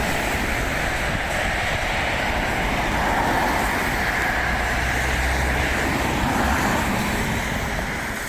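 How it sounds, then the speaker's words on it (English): A train rushes past near the Skeoch Roundabout in Stirling, Scotland, as a loud, unbroken broadband roar that holds steady for the whole stretch without any speech. "Train."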